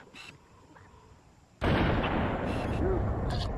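Gunfire in a Halo 1 firefight against Covenant elites and grunts bursts in loud and close after a quiet stretch, then holds as dense, sustained blasts and crackle to the end.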